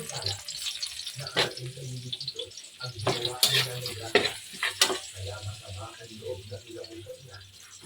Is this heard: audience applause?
no